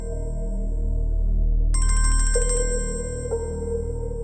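A phone ringtone plays loud and close, a bright electronic melody chiming in short repeating bursts for a couple of seconds over a low steady hum, as a call comes in from the brother.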